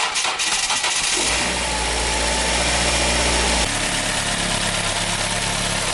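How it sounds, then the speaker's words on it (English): A cheap used car's engine cranks and catches, then settles into a loud, steady idle with a shift in tone partway through. "I'm going to go ahead and start this car"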